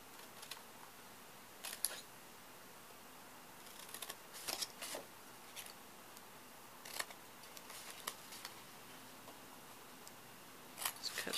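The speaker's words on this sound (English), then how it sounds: "We're going to cut our slits." Faint, sparse snips and clicks of scissors cutting slits in craft material for a doll armoire, scattered irregularly in a quiet room.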